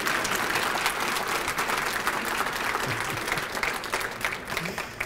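Clapping breaks out in the audience during a county executive's State of the County address, a steady patter of many hands held at a moderate, slightly distant level for several seconds.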